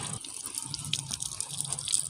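Water pours onto garden plants in a village yard in a continuous close splashing gush, steady and fairly soft throughout, with no voices.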